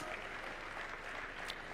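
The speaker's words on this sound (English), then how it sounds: "give her a round of applause." Applause from the audience at a national conversation launch event at KICC in Nairobi, a faint, distant, even wash of clapping lasting under two seconds.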